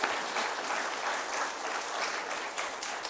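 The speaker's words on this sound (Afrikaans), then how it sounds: "En kom ons klap vir almal lekker hande wat verjaar" A church congregation applauds for its birthday celebrants during an Afrikaans Sunday service, with steady, even clapping from many hands that carries on without a break.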